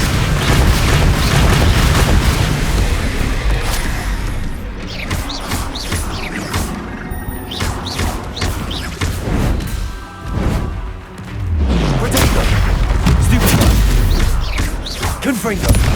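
Repeated booming blasts and crashes from the Confringo fire spell in the Hogwarts Legacy video game, loud and close, coming in irregular bursts amid layered combat effects.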